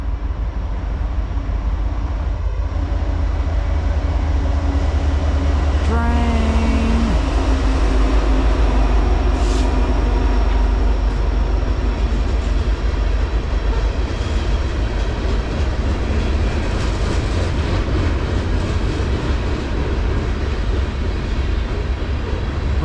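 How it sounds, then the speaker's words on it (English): A train passing through woods, a long loud steady rumble of rolling wagons with clattering wheels and a brief horn-like tone, continuing without break. "Pretty cool to capture a train here in the woods."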